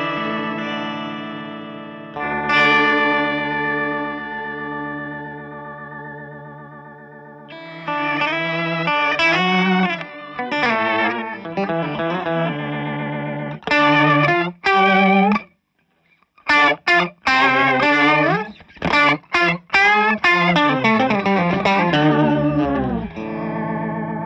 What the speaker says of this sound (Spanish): Da como un trémolo vibrato.